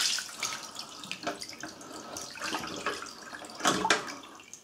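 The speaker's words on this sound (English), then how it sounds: "If you've got water in it, you can just use your tray to catch the water." Water draining from a front-loading washing machine's lint filter into a tray, a continuous trickling splash with a few louder gushes, close by.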